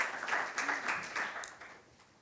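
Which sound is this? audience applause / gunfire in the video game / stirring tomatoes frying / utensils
audience applause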